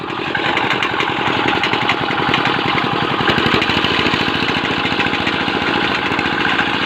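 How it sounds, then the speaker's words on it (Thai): A motorcycle engine runs slowly in a rural setting at dawn, with a steady, close, rhythmic low putter that stays even throughout. "ก็ขี่มอไซค์ตามมาแล้วทุกคน เราก็ค่อยๆต๊อกๆเครื่องไปนะ"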